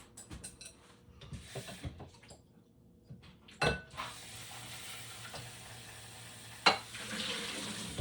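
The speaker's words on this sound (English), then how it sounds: "And I need a little water." Water from a kitchen tap runs steadily into a container on a home counter, a soft hiss beneath clicks, clinks and handling sounds.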